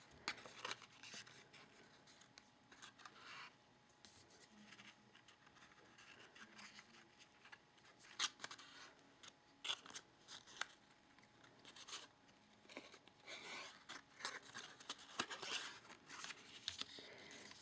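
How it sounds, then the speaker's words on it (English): Scissors snip through twine wrapped around a handmade treat card, a series of soft, quick cuts close by and fairly faint, with no talking. "let me go ahead and trim that right there."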